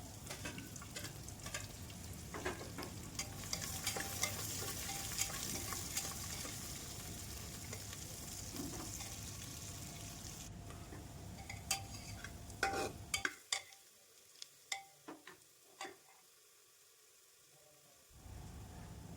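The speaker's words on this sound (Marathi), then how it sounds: "कढीपत्ता आणि उभा चिरलेला कांदा टाकून तो चांगला गोल्डन ब्राऊन होईपर्यंत परतून" Sliced onion with curry leaves sizzling and being stirred in a pan, a soft steady frying hiss with scraping stirs, then a short pause with a few clinks before the sizzle returns.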